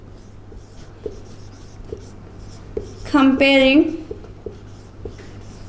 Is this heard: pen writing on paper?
yes